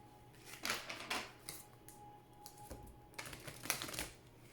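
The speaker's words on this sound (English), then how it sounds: "Please think of your question as I shuffle the cards." Oracle cards being shuffled by hand, with a series of soft papery riffling bursts, fairly quiet and close, with no talking.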